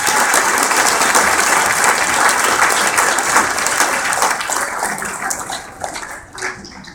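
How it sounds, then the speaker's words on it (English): Sustained applause from a large audience at a pharmacy class formal masquerade, loud and dense for most of the stretch, then thinning and fading over the last second. "let's have a round of applause to thank these wonderful people we have in our lives"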